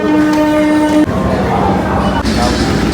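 A train passes by near a Kolkata station. A sustained horn blast opens, then a loud, steady rumble and rattle of wagons rolls past close by, with people talking faintly around it.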